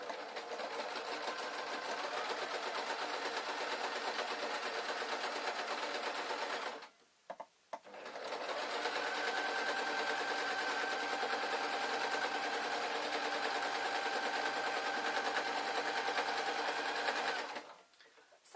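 A domestic sewing machine stitches a Downton Abbey style dress in long continuous runs, close and steady, with a brief stop in the middle before it resumes and then halts near the end.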